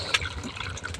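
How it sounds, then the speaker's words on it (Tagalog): Water is poured into a cooking pot of freshly harvested ripe produce on a farm, a steady splashing trickle with small drips and gurgles, close and continuous. "Lagyan natin ng tubig para maayos ang pagluto niya"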